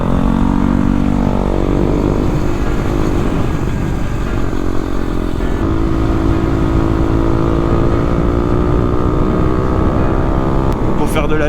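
KTM Duke 125 motorcycle engine droning steadily while riding, pitch rising and falling with throttle over constant road and wind noise, close and loud.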